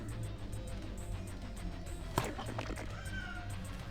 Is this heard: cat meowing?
yes